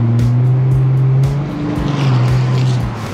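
A Ford Mustang accelerates hard along a road past a cyclist, its loud, steady engine drone rising in pitch as it pulls away, with faint tire and wind noise and no talking.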